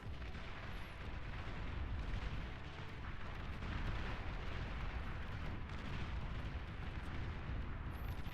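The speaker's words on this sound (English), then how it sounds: "A lot of gunfire going on the middle now." Dense, continuous gunfire and explosive booms from a large real-time strategy game battle with bombers and anti-air units, a steady loud barrage with no pauses throughout.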